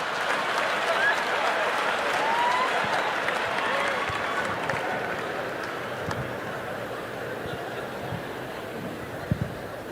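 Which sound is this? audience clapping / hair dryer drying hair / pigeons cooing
audience clapping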